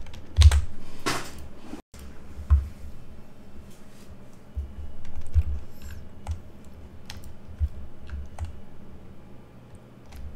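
Sparse computer keyboard taps and mouse clicks during video editing in Adobe Premiere Pro come in short, irregular bursts at close range against a quiet room.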